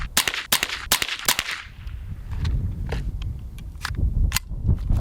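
Suppressed .22 rifle shots from a Fletcher Rifle Works open-top 1122 with a budget Taquito suppressor, several sharp, close cracks in quick succession early on, then fainter scattered clicks and handling sounds over low background rumble.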